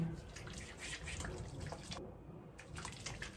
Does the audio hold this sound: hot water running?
yes